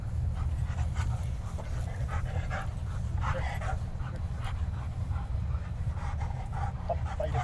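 A police K9 dog pants steadily and close by, with a few soft whimpers and whines over a constant low background rumble.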